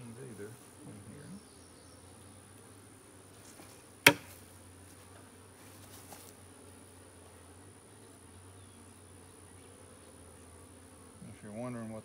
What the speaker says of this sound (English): that was me smacking a red wasp that decided it wanted to land on top of my honey super